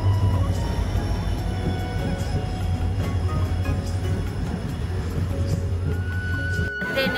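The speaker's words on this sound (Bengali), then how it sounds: "ফাইনালি আমাদের ট্রেন চলে আসছে" A crowded train pulls in at a station near Siliguri, a loud, steady low rumble and drone of the moving cars running continuously, ending with a brief break near the close.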